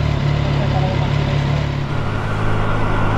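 A new Triumph Tiger Sport 660 motorcycle engine runs steadily close by, a continuous low mid-frequency hum and rumble with a slight shift in tone partway through.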